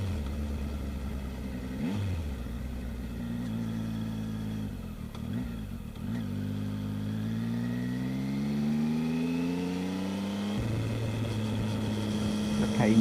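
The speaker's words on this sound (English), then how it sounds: "The kind gentleman in the car letting me pass." A Triumph Tiger 800 motorcycle accelerates past a car on a bumpy, rippled road between Lairg and Ullapool, its close engine note climbing steadily in pitch over constant wind rush, then dropping and building again.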